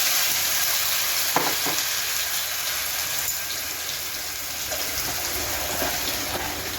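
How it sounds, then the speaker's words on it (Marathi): A ground masala paste with curry leaves sautéed in hot oil in a pan for a surmai fish curry, giving a dense, steady sizzle close by with occasional spatula scrapes and taps, and no one talking. "आता हे आपण छान असं तेल सुटेपर्यंत परतून घ्यायचं."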